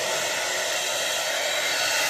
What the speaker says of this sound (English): Alright, well I got the blow dryer going.